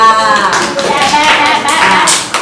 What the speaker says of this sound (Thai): ปรบมือค่ะ